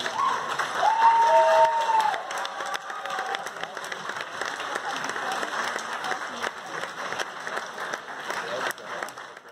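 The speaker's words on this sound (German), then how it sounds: "was man auch am Beifall hört" Scattered applause from a political audience during a politician's speech where protesters were removed, sustained and moderately loud, mixed with crowd noise and some overlapping voices.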